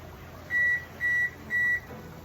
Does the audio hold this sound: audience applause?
no